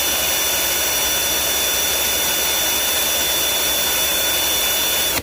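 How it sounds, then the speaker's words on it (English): A power drill spins in reverse for a few seconds to take tension off the line. It gives a steady, loud, high-pitched whir that cuts off abruptly at the end. "Put the drill in the opposite direction and spin it for anywhere from 3 to 4 seconds."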